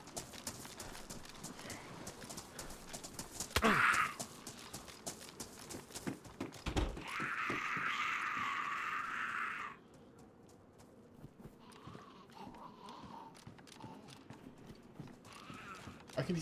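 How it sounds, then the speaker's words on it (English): Footsteps in the video game DayZ: a steady patter of steps runs throughout at low level, with a few louder knocks, a burst of brighter rustling noise partway through, and a quieter stretch near the end. "I can hear so many footsteps."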